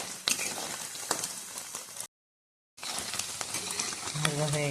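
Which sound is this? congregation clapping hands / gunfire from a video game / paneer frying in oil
paneer frying in oil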